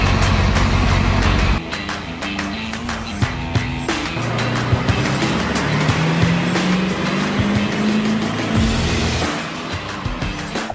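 A 7.3 Powerstroke diesel engine fitted with a 5-inch downpipe runs loud and close, its steady rumble rising in pitch as it revs up over several seconds.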